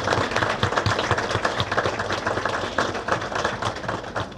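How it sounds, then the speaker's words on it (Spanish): Audience applause at an inauguration ceremony for a Gesell chamber, dense continuous clapping from a crowd that holds steady throughout with no talk over it. "Muchísimas gracias y aplauso para todos ellos, por favor."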